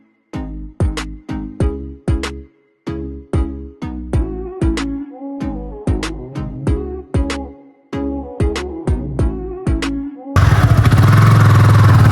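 A Yamaha R15 V3 motorcycle engine revs in repeated sharp bursts, each throttle blip rising and dropping in a steady rhythm, loud and close, before settling into a continuous rushing roar near the end.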